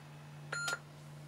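A single short electronic power-on beep from a TI-99/4A computer, clean and tonal, sounding once against a quiet background with a low steady hum.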